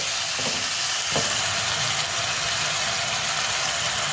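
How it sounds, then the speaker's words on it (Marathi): Tomatoes with salt sauté in a hot pan for pav bhaji, giving a steady, even sizzle that holds at a constant level with a couple of faint clicks. "ह्याच्यावर थोडंसं मीठ टाकून मी परतून घेते"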